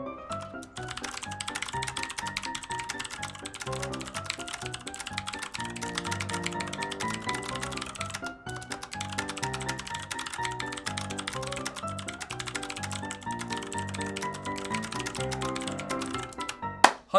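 A mechanical keyboard with MX Blue switches is typed on fast and continuously during a typing test, its dense clicky keystrokes running steadily under music.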